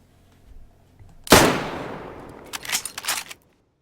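A rifle with a compensator attached fires one loud, sharp shot in the DayZ video game, the blast decaying over about a second, followed by a few softer metallic clicks of the action being worked.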